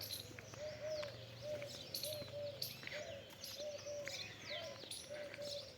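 Mynas and peacocks call outdoors near a village temple: a repeated, evenly spaced mid-pitched call recurs every second or so, with scattered sharp chirps and tweets over a steady background hum.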